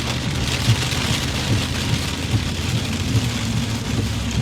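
Steady heavy rain pours down during a supercell storm chase in Jackson County, a dense continuous hiss drumming on a vehicle without pause, loud and close with faint low rumbling beneath.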